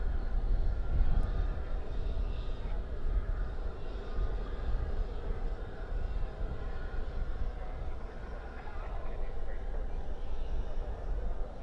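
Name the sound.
UPS cargo plane at DFW airport at night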